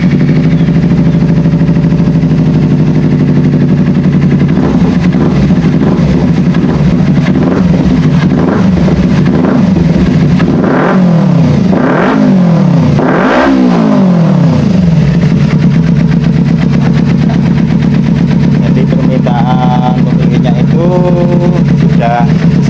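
Kawasaki Ninja 250 motorcycle engine, a steady loud idle rising into several sharp revs midway, then settling back, with a person talking over it.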